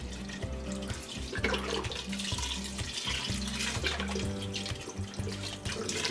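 Water runs from a kitchen tap into a chili pot, a steady continuous splashing flow that lasts throughout, fairly close and alone with no talk.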